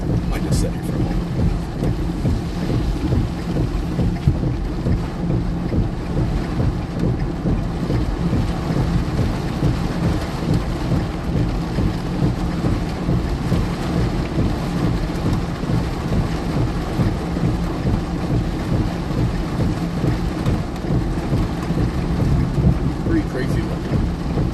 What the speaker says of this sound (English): We're kind of in the middle of a couple storms here.